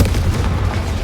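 A Confringo fire spell explodes in Hogwarts Legacy, a single deep rumbling boom that holds loud and steady through the short moment with no voices over it.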